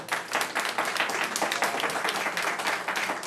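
Audience applause at a city commission meeting, a dense burst of many hands clapping together, close and loud, holding steady for a few seconds with no voices over it.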